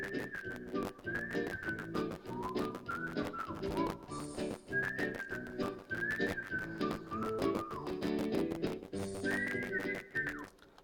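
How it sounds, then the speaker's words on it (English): Someone whistles the Andy Griffith Show theme as a classroom signal, a lively melodic tune carried clearly and continuously over about ten seconds without speech. "students call that the whistle song"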